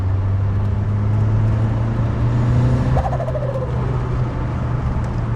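Car with a freshly rebuilt forged engine pulling gently under light throttle, a steady loud drone with a faint rising whistle partway through as turbo boost comes on.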